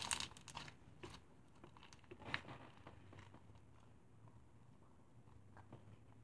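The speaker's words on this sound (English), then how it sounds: "And the fishbowl beads make it so crunchy." Clear slime with fishbowl beads being squeezed and pressed, giving quiet, crisp crackles and crunches in short bursts, loudest at the start and then softer and scattered.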